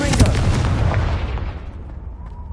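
A Confringo spell explosion in the video game Hogwarts Legacy: one loud, booming fiery blast that rumbles and then fades away over a couple of seconds.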